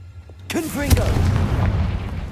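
A blasting spell bursts with a sharp boom in the Hogwarts Legacy video game, a loud close hit followed by a rumbling tail, with a voice calling out over it.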